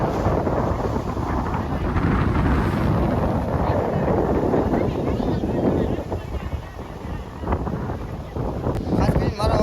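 Strong wind blowing by the sea near a seaside temple, roaring steadily into the microphone with heavy low buffeting for the whole stretch.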